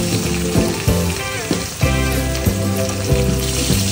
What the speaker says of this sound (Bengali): মাছগুলো আমি আস্তে আস্তে করে এবার ভেজে নেব। একটা একটা করে তেলে ছেড়ে দিলাম।